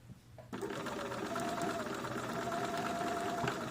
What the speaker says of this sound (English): I'm ready to top stitch the side seams of my pants.